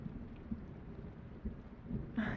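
A thunderstorm with steady rain and low rumbling thunder that swells a few times, fairly faint and continuous, with no voices.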